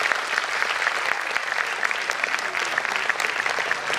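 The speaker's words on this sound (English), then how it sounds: "Parents, please keep clapping for them and encourage our little ones." Parents and audience at a pre-primary school annual programme in an auditorium applaud the children with dense, continuous clapping that stays steady and fairly close throughout.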